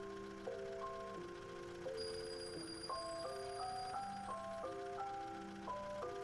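A tinny, bell-like ice cream truck jingle in a video game plays a looping melody, moderately quiet and steady, with no talking over it.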